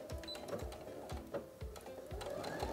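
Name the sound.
sewing machine stitching a shorts waistband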